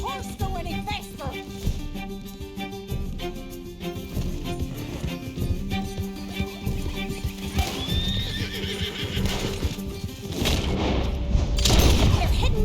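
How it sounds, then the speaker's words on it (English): A horse in Red Dead Redemption 2 gallops with steady clip-clopping hooves and whinnies loudly, among busy game sounds, distant gunfire and booms. "Can't this horse go any faster?"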